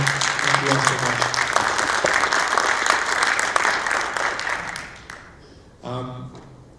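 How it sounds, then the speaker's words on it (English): Audience applause fills a town hall meeting on a Dearborn sewer study, steady and dense for about five seconds before fading out, followed by a brief voice. "can we give them a round of applause just to thank them for coming out?"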